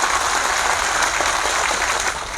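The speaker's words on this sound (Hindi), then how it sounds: "आप सब लोग एक बार जोर से अपने खुद के लिए एक बार कस के ताली बजाएं" A large crowd at a BSP political rally in Basti claps loudly and continuously in dense, sustained applause that fades slightly toward the end.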